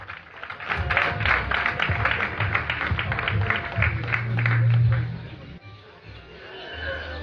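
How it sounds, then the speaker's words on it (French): Audience applause at an outdoor political campaign rally in the Avéa quarter of Libreville, Gabon, a dense crowd clapping for several seconds mixed with voices and hum before fading out. "Tous vos applaudissements, s'il vous plaît."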